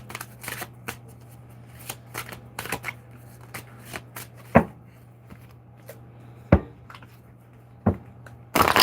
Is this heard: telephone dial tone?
no